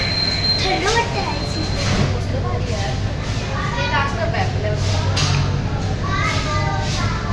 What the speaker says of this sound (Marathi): केवढी मेट्रो आहे ना ती.